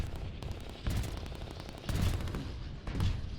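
Battle sounds from the strategy video game Line War, with infantry gunfire and artillery: a steady rattle of small-arms fire broken by heavier booming thuds roughly every second, busy and continuous.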